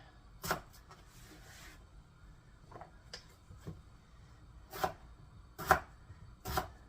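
A knife dices small potatoes on a cutting board in a kitchen, leaving a handful of sharp, separate chops with quiet gaps between them and no voices.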